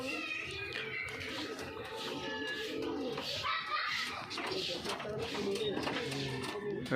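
Pigeons coo in a loft, repeated throaty rolling calls from several birds at close range, heard under someone speaking.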